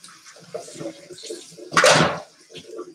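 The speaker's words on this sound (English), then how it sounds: "Just going to rinse my hands off." Hands being rinsed under a running kitchen tap, a short close gush of water about a second long, with a voice speaking before and after.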